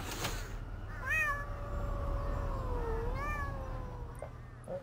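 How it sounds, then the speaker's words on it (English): Several cats meow in a video game, Thirty Flights of Loving, with drawn-out rising and falling calls overlapping one another, moderately loud over a steady low background hum. "Wait, I hear kitties."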